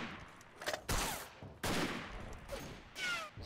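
Gunfire in the Verdun World War I shooter game, several sharp bursts of rifle and machine-gun shots at irregular intervals, moderately loud with quieter gaps between volleys.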